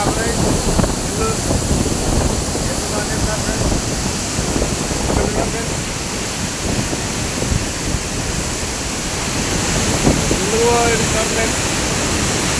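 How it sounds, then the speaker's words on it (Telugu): Water pours down through leaks in a continuous heavy rush, a dense, steady splashing roar that fills the whole stretch without pause. "లీక్లే నీళ్ళు పడుతున్నాయి."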